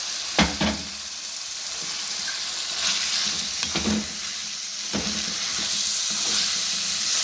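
Previously fried mixed vegetables tumble into hot oil and sizzle steadily, with a few sharper spatters and stirring clatters across the stretch and no voices.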